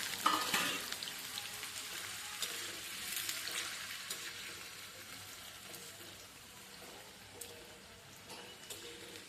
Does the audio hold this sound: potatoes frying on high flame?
yes